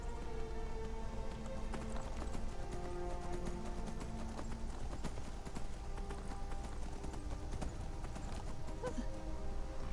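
Horse hooves clip-clop steadily and continuously as a horse travels in the Skyrim video game, with a dense layer of game music and ambience running underneath.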